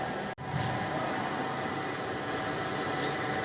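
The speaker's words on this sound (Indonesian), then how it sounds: "MPG ini kita gunakan untuk menggerakkan kolom dan meja mesin pada arah sumbu Z, sumbu X, dan sumbu Y." A CNC milling machine hums steadily as its table and column are jogged along the axes with the MPG handwheel, a constant mechanical drone after a brief dropout.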